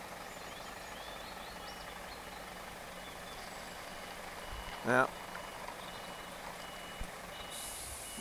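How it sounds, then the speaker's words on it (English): A lorry reverses along a blocked road on the Isle of Arran, its reversing beeps faint and distant over a steady low engine rumble and outdoor background, with a brief remark from someone nearby. "it's going to have to reverse all the way back to the Ross Road end"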